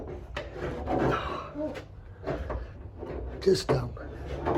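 Abrasive scratching and rubbing on a Fiat 128 body panel during an amateur restoration, coming in uneven close strokes and scrapes while someone talks over the work.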